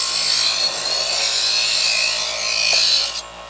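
Santoku knife pulled through a Chef's Choice electric sharpener, a steady close grinding whine for about three seconds over motor hum, ending abruptly as the blade leaves.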